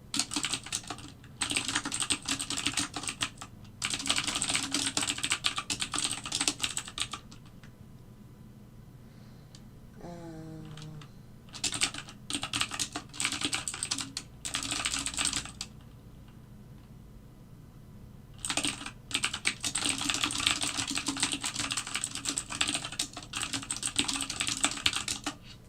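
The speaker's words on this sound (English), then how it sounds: "Sorry I'm typing so much." Computer keyboard typing comes in long, fast bursts of close clicking, broken by short pauses and a brief chiming alert tone in the middle, during a live algorithmic trading session on NinjaTrader.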